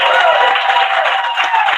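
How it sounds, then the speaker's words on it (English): A live poetry slam audience claps for the rookie poets, a brief dense burst of applause filling the room. "I just want to give a round of applause to all the rookies"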